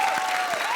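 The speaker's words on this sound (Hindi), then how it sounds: "जोरदार ताली बजाओ।" Comedy show studio audience applauding: a dense, continuous wash of clapping throughout, fairly loud and close, with a faint tonal whine running beneath it.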